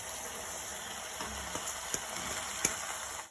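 Rice roasting in a pan over high flame for Kerala-style neychoru gives a soft, continuous sizzle, with a few sharp scrapes and clicks as it is stirred, close and fairly quiet.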